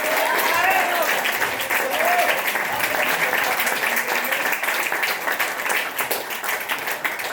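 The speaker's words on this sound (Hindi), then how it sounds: "एक बार जोरदार तालियां हो जाए" A crowd applauds steadily, dense clapping filling the space for several seconds, with a few voices and cheers faintly mixed in.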